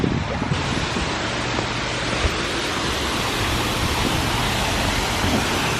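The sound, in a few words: waterfall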